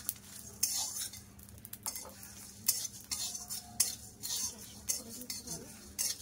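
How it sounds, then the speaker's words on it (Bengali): Panch phoron spices fry and are stirred with a metal spatula in a pan while making tamarind pickle, with repeated close scraping and clinking strokes over a soft sizzle and no talking. "এবারে পাঁচফোড়নটা দেবো। পাঁচফোড়নটা বেশি ভাজতে লাগবে না।"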